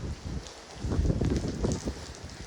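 Strong wind gusts over the microphone on the hilltop at Pavagadh, producing a constant, loud, low rumbling roar with no other sounds coming through.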